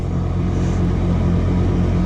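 A Kawasaki Ultra 310LX jet ski launching from a standstill, its engine a loud, close, steady low rumble that roars continuously through the brief moment.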